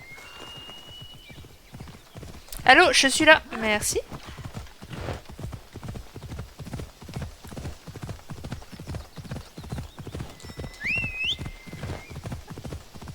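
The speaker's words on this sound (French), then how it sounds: "On va prendre le cheval, hein" Horse hooves clip-clop steadily in a video game, a regular rhythmic trotting under French conversation, with a brief louder neigh-like burst early on.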